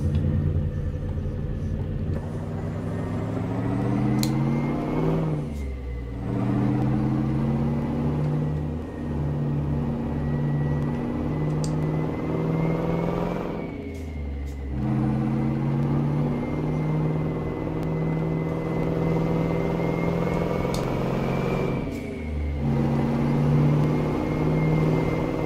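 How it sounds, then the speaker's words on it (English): Mack Cruiseliner truck with a 12-speed Maxitorque transmission in American Truck Simulator, engine droning and rumbling steadily, revs climbing and dropping through several gear shifts over a continuous loud run. "Good sounding truck for sure."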